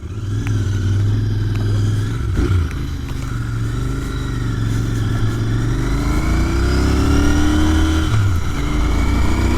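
Royal Enfield Interceptor 650 Mk 2 motorcycle out on a ride, its engine a loud, steady rumble that swells and shifts pitch as it accelerates through gear changes, with wind noise throughout and no talking.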